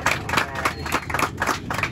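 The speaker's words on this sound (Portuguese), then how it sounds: "Os aplausos para a Letícia." Brief applause from passengers aboard an airplane cabin for a flight attendant, a quick run of rhythmic claps at moderate volume over cabin noise.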